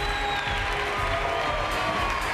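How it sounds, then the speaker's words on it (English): Sustained audience applause at the MotoGP Awards ceremony in Valencia, steady and even throughout with a faint tonal hum in the background. "Nadia, this is also your applause"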